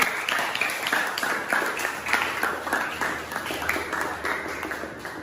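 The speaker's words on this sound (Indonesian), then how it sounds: "Ya, tepuk tangan kepada Randy." Classroom applause as students clap for a classmate named Randy after his presentation, a dense, lively patter of many hands with a faint tone and murmur underneath.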